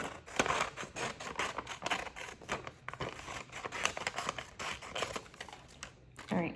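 Scissors snip through folded paper along a counted crease, a series of sharp, close cuts and paper rustles in an uneven rhythm, with a voice talking over them.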